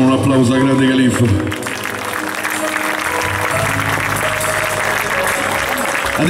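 At a summer outdoor show by a tribute band in Lesina, a crowd breaks into loud, sustained applause that swells after a brief tonal voice or music passage and keeps going, with some voices mixed in.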